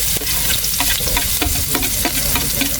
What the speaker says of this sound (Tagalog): Luto na tayo ng sibuyas at bawang.